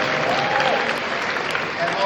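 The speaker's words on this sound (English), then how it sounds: "it would make me so happy if you could all just give him a round of applause for his honor." Audience applause fills a room at an anniversary gala, a sustained dense clapping wash, close and steady throughout.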